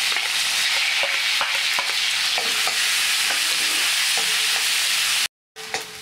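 Finely chopped onion sautés in hot oil with a dense, constant sizzle and scattered spatula taps. The sound breaks off briefly near the end and then returns.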